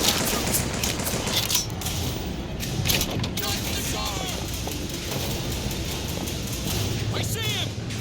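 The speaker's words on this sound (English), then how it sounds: "I forgot I picked up the machine gun instead." Machine gun fire from a Bioshock Infinite battle rattles on steadily through all eight seconds, dense and fairly loud, with game voices and scattered effects mixed in over it.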